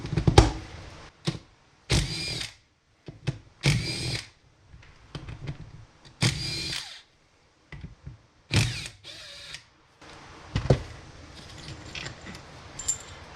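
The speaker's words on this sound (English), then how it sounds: "So just pull those bolts that are left on it." A power tool removes bolts from an Allison 1000 transmission on a Duramax, firing in repeated short whirring bursts with pauses between them, close and loud, with clinks of parts in the gaps.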